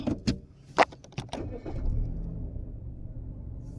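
A car engine in a driving video game cranks and catches after a few sharp mechanical clicks, then settles into a low steady rumble. No one speaks.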